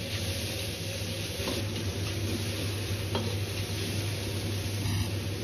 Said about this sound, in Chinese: 下入醃好的肉， 保持中火，用勺子快速的翻动，把瘦肉炒散